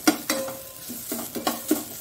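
Green masala for ivy gourd frying in a pan over a medium flame, a low sizzle broken by about five sharp spatula scrapes at an uneven rhythm, close and without speech.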